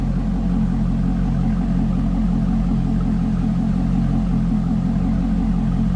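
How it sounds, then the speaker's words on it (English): A 2005 Chevrolet Corvette convertible's engine runs at a steady, deep idle, a low throaty rumble close by with no talking. "It's a good sounding Vette."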